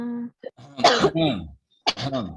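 A couple of harsh coughs or throat-clearing bursts, close by, with a brief pause between them and some faint voiced sounds before.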